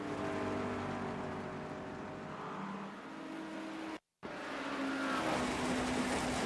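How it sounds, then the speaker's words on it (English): Steady rain and a race car engine in a Monza endurance sim racing game, a continuous engine drone with hiss of rain, briefly cutting out before resuming. "this is, I think, as bad as the rain will get"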